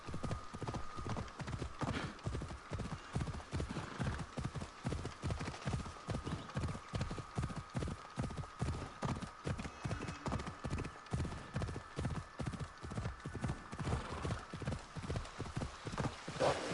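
A horse gallops in Assassin's Creed Odyssey, hooves pounding in a fast, steady rhythm for many seconds, close and prominent with a brief whinny.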